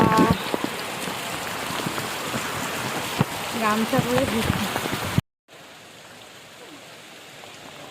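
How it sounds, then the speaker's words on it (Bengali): Steady patter of rain on surfaces with a person talking over it, cutting abruptly to a quieter, muffled hiss of rainfall. "তোমাদেরকেও একটু বৃষ্টির আওয়াজটা ভিডিওতে শোনালাম"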